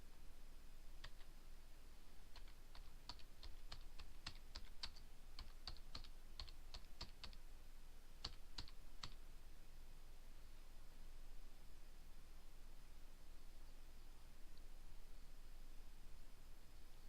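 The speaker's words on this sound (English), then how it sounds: "Next, type in a description for your worksheet." Computer keyboard keys tapped in a quick burst of about a dozen light clicks while a worksheet description is typed in farm management software, then a few more taps before a long quiet stretch with faint background hiss.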